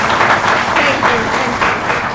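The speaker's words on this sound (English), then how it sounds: "So a round of applause for them also." Loud, dense audience applause at the grand finale of a CA students' debate competition, honoring board executives. Steady clapping from a large crowd runs throughout, with a voice speaking faintly beneath it.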